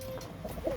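A pigeon in a loft gives a brief, soft coo, low and close, with a few quiet warbling notes near the end and no talking.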